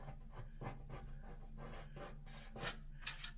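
A blade scrapes across a drywall patch during a same-day hole repair, giving a series of close, dry rasping strokes in irregular bursts, with a sharper scrape near the end and no talking.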